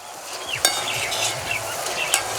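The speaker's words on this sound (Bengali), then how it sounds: "এবার একটু উল্টে পাল্টে ভেজে নিতে হবে। এটা ভাজতে খুব একটা সময় লাগে না।" Gram flour boondi fry in hot oil and are turned, a constant sizzle broken by metal spoon clinks and scrapes against the pan, close up with no speech.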